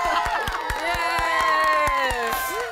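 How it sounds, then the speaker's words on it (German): Cheering and applause from a lively crowd with whoops and shouts, loud and continuous with sharp claps throughout, dropped in as a celebratory sound effect while cooking a crispy suckling pig. "Kann man jetzt so einen Applaus einblenden?"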